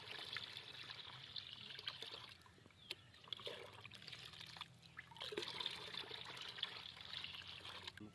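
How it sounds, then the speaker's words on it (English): Non-chlorinated water pours steadily into a bucket for a garden plant-feed mix, a continuous close trickling splash that swells near the end, with no one talking. "we will add 10 more liters of non-chlorinated water into our bucket."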